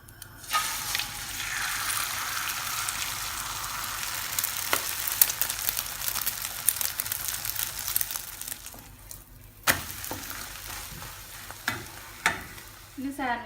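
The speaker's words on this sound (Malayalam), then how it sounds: "എഗ്ഗ് ഒന്നിനി പൊരിച്ചെടുക്കാം. കുറച്ച് ഓയിൽ ഒഴിച്ചിട്ട്" Egg frying in oil in a pan for a chicken club sandwich: a steady, close sizzle runs throughout, with occasional sharp clicks and a few brief scrapes near the end.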